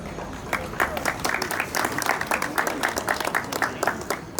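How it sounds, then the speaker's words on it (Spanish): A crowd applauds the Espinosa family at a Tiarichi Huaylia festival in Antabamba, with uneven, pulsing bursts of clapping. It is steady and moderately loud for a few seconds with no voices above it. "El aplauso fuerte, muy bien."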